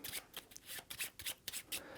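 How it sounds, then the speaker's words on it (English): A deck of board game location cards is shuffled up close, giving a run of quick papery riffles and slaps in irregular bursts with no talking. "we're going to shuffle our"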